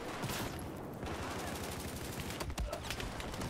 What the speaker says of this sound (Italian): Ma di dove sparano?